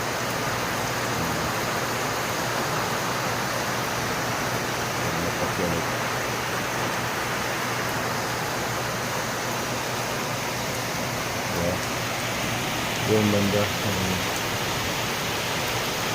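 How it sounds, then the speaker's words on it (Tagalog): Steady, dense hiss of heavy rain pouring continuously, with a faint voice speaking briefly underneath. "Lakas ng ulan."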